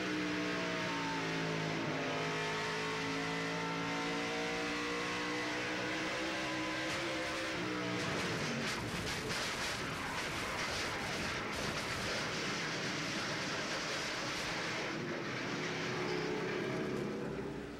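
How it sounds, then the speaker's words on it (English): Racing trucks at Bristol during a 1996 race crash, with snapping fence posts; engines whine and rev in rising pitches, then a harsh, noisy burst of impact and crunching under continuing engine roar, distant and muffled. "Somewhere in the middle of that was the sound of snapping fence posts"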